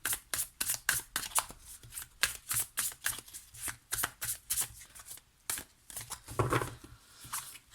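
Slightly bent tarot cards shuffled by hand close up, a steady run of crisp riffling bursts and soft slaps, no talking.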